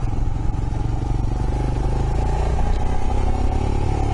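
A 2018 Royal Enfield Himalayan motorcycle rides slowly over rough off-road ground, its steady engine drone loud and continuous with rattling and clattering from the terrain throughout.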